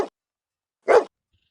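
A dog named Mother Teresa barks twice, one clipped bark at the start and a fuller single bark about a second later, close and clear with silence between them.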